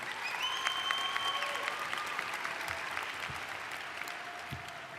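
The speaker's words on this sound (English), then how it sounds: "let's please give them another round of applause" Sustained applause from a graduation commencement audience, an even wash of many hands clapping with a few sharp claps standing out and faint tonal sounds underneath, no speech.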